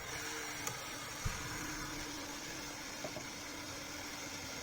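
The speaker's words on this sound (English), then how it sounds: "And I have gotten the camera motor to operate." Bolex H-16 Reflex film camera motor running steadily, a continuous close mechanical whir and hum with a few faint clicks and no talking.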